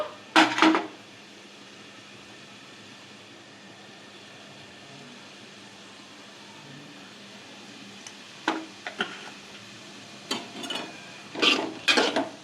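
Onions fry in a pan with salt while a spoon stirs them, giving short bursts of scraping and clinking at the start and again near the end, with a faint, steady sizzle between the bursts.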